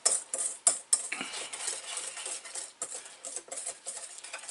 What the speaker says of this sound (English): every time I add a couple of the dry ingredients, I'm going to whisk this stuff around a little bit